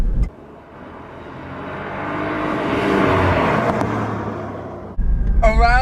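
A 2017 Cadillac ATS-V with a twin-turbo engine accelerates hard on canyon roads, its roar building steadily to a peak and easing, then a sharp rising whine near the end, with a voice faintly over it.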